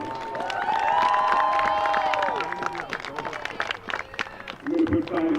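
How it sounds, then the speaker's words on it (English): A crowd in the stands applauds senior girls soccer players honored before a varsity match, with clapping and cheering under a prominent public-address voice and sustained tones. "What a nice round of applause for all of them."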